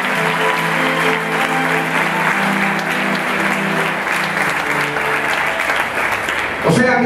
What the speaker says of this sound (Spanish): denle un fuerte aplauso a los que obedecen a la palabra del Señor